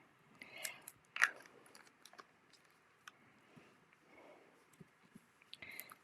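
Scissors snip through glued paper in a few short, quiet cuts, crisp and close, with soft rustling handling noise between them.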